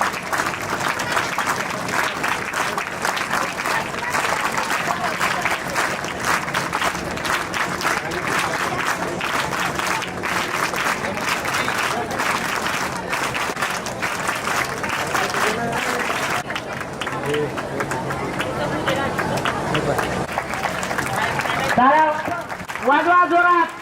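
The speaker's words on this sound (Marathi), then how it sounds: "बघू टाळ्या हरतेत का वाजवणारे हरतेत, जोरात आणखी जोरात." Loud, sustained applause from a seated crowd at a get-together rolls on continuously and close, with voices mixed in. Near the end the clapping thins out and a few raised voices come through.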